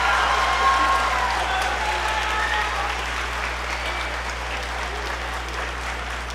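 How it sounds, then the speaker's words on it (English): A concert audience in the Macon Region applauds the band students, steady broadband clapping from a large crowd that fades slightly toward the end, with a low hum underneath. "Give them another round of applause for all those kids"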